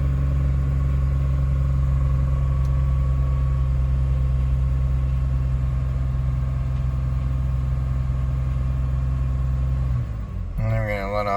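Engine of a Jeep JK with a suspected bad catalytic converter, a steady loud idle-like drone that drops away near the end as the throttle is released.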